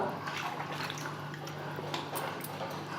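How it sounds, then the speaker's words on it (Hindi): Water left over from rinsing the cashew-paste and spice-mix jars is poured into a pan of gatte gravy, giving a soft, steady splashing and trickling at low volume throughout. "ये पानी ऐड कर देंगे इसमें पूरा"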